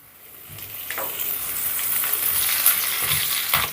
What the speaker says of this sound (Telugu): పోపు వేగిందండి